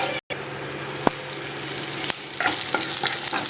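Garlic sautéing in a pan during preparation of a hotel-style paruppu podi, a steady close sizzle with scattered stirring clicks and scrapes, one sharp tap near the start, no talking.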